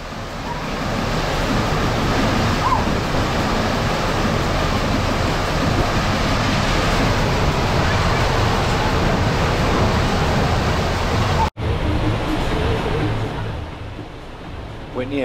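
Water rushes loudly and steadily across a FlowRider surf simulator aboard a cruise ship, a dense hissing surge that continues almost unbroken, with a brief cut near the end.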